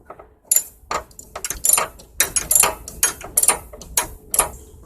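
A ratchet wrench tightens a 13 mm pulley nut on a John Deere LT155/LT166 riding mower deck, giving a close series of sharp clicking bursts in an uneven rhythm.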